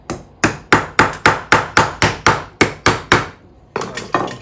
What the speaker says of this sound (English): Just gonna chisel this away.